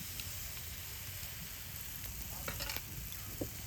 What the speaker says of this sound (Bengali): এই রকমই এক ডাবু ব্যাটারটা এর মধ্যে দিয়ে দেবেন